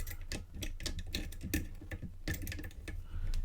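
Lever spring clicking inside a 3-lever lock as it is picked, with small rapid ticks and clicks in an irregular rhythm, close and faint against a steady low background.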